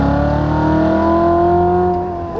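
A Nissan GT-R Track Edition accelerates hard at full throttle, its engine note climbing steadily in a loud, sustained roar heard from close by.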